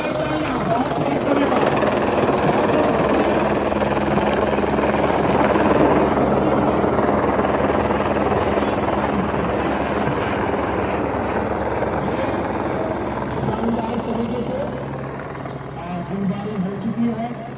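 A helicopter's loud, continuous rotor and engine roar holds steady throughout, sounding close overhead.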